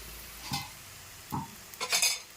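Cooked leafy greens are stirred in a frying pan, three short scraping sweeps with a quiet sizzle underneath, faint and close with no voices.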